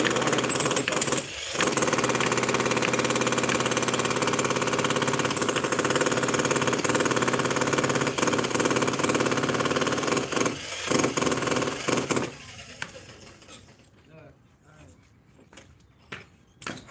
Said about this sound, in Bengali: এই ব্রেকার মেশিন দিয়ে খুব সহজেই আরসিসি কাস্টিংগুলো ভেঙে ফেলা যায়